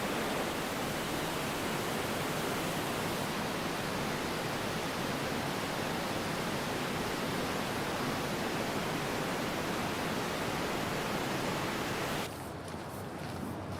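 Niagara Falls in winter pours with a steady, dense roar of rushing water, loud and unbroken for most of the stretch before dropping away abruptly near the end.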